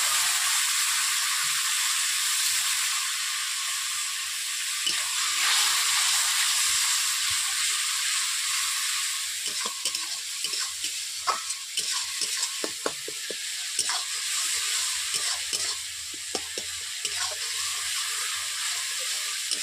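Fish head curry bubbles and sizzles in a kadai after a little water is added, with a steady hissing simmer and occasional spoon scrapes and clicks, close and moderately loud.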